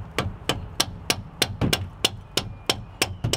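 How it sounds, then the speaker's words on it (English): A small mallet strikes a disc brake bolt during a brake change, delivering about eleven sharp, evenly spaced knocks roughly every third of a second, close and clear with no talk. "just get a mallet and that'll bite it in"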